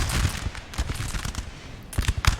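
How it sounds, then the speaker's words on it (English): Massed musket volleys and artillery in Napoleon Total War's Battle of Wagram crackle in irregular bursts, some sharp nearby shots and rolling distant fire, with a louder cluster near the end. "They've started to fire some shots off."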